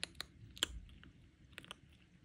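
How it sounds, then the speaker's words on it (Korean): A two-month-old kitten crunches dry cat food at close range, giving a few sharp, irregular crisp bites with quieter chewing between them and no talking. "하찮은 이빨로 의사 선생님이 주신 사료도 아그작"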